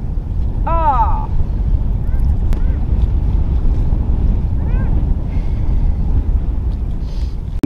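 Strong wind buffets the microphone during fly fishing for brown trout in New Zealand, a loud constant rumble broken by a few high whistling bird calls.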